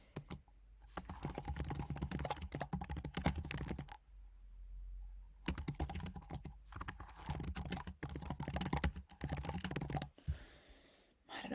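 Typing on a computer keyboard, steady bursts of close key clicks broken by short pauses, with no talk over it.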